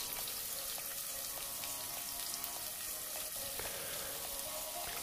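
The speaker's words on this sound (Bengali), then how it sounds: "এরপরে আমি পেঁয়াজ কুচিগুলো এখানে অ্যাড করে দিচ্ছি।" Chopped onions fry in olive oil in a pan, giving a steady, soft hiss and sizzle with light crackles throughout and no voices.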